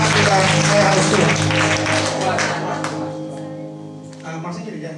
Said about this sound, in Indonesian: Beri tepuk tangan yang baik buat Tuhan.